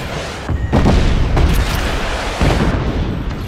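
Loud, rumbling video game explosions in Just Cause 3 boom one after another in quick succession, close and heavy, blending into a continuous roar.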